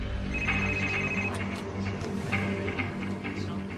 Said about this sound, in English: and my phone rang